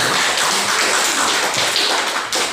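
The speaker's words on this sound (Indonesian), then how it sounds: "sekali lagi berikan aplaus untuk kelompok ini" Classroom applause for a student group, a dense run of close, quick hand claps lasting a couple of seconds with no talk over it.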